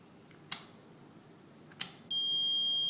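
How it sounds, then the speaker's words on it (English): A fingerprint lock on a briefcase clicks twice, then a steady high electronic alarm beep starts after the failed unlock and holds, fairly faint over a quiet background. "It's alarm. You cannot open it."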